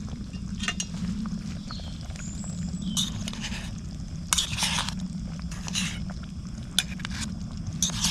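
Thai green curry is eaten outdoors in the woods from a Trangia 27 camping cook set, with a spoon clinking and scraping against the metal pot and some soft chewing over a steady low background rush, with no talking.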